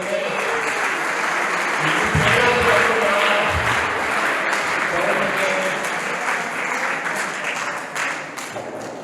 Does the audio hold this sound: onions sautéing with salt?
no